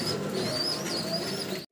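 A pair of coloured Golla pigeons coo close by in a dense, continuous low murmur, with a faint chirp riding above and no voices, ending abruptly.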